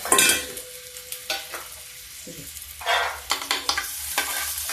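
Potatoes frying on a gas stove, with intermittent bursts of sizzling and stirring scrapes coming in separate clusters, close and moderately loud, with quieter gaps between them.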